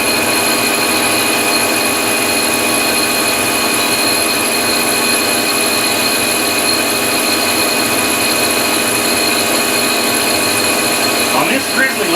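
A Bridgeport-style milling machine cuts aluminum with carbide inserts at the 755 speed setting, giving a loud, steady, whining drone with sustained tonal hums that runs unbroken throughout.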